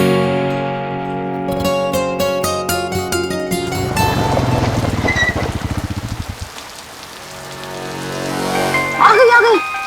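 Rain patters steadily in a TV episode scene, mixed with music and a voice, with some wind rumble and gusts.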